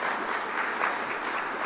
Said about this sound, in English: Quick round of applause.